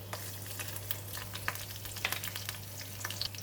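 Spices crackle and fry in melted ghee for a chicken kurma, a steady quiet sizzle with scattered small pops and clicks over a low electrical hum.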